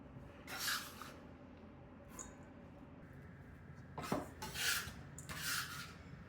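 A kitchen scraper sliding chopped onions across a cutting board, several soft raspy scraping strokes in short bursts with quiet pauses between, close and fairly faint.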